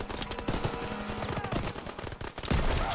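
A gun fires steadily in the Call of Duty: WWII video game, a dense, loud run of rapid shots that swells near the end, with no speech.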